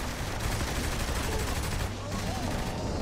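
Sustained gunfire in Saints Row: The Third, a dense, continuous rumble of shots mixed with game noise and people talking throughout.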